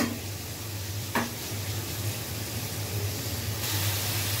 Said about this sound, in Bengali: তো একটু চিংড়ি মাছটাকে একটু ভালোভাবে কষিয়ে নিই